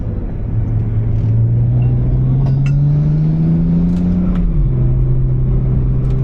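A BMW 135i, a 500 hp build, drives along with a steady mid-pitched engine drone and a rising tone as it gently accelerates, then a shift drops the pitch, with road rumble underneath and no talk.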